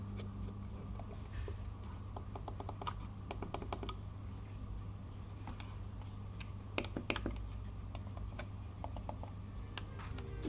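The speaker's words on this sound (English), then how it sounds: "here's a quick example of just how silent that click is." Logitech MX Master 3S wireless mouse buttons pressed repeatedly, soft muted clicks in irregular bursts over a low steady hum, close and quiet.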